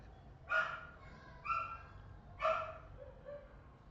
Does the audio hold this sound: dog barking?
yes